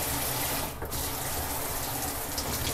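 Water runs from a hotel shower in a steady, loud hiss that fills the space, with a brief dip in the flow partway through and no talking over it.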